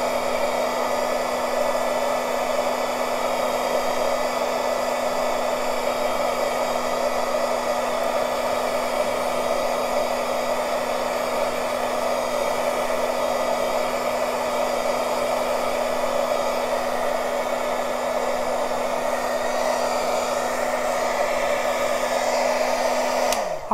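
A heat tool blows continuously for about twenty-four seconds, drying embossing on craft dangles with a steady, loud whirring hum that cuts off abruptly at the end, and no one speaks.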